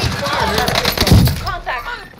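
Gunfire from Call of Duty Warzone on Rebirth Island: a jumble of shots and a low, thumping burst midway, loud and close against a busy game soundscape.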